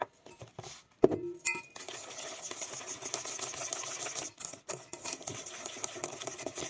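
A utensil scrapes and swishes around a bowl of rice-flour pancake batter in a steady stirring rhythm, with a sharp clink near the start; no voices.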